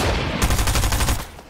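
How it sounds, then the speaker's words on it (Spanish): A rapid burst of loud video game gunfire in Fortnite, several shots fired in quick succession, close and sharp, with no talking. "Hay disparos, ese me da miedo."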